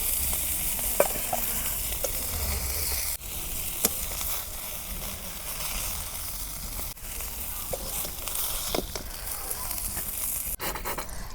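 Tilapia fish pieces fry in hot oil in a village-style kitchen, giving a steady, close sizzle and crackle with a few sharp pops and stirring scrapes, and no voices.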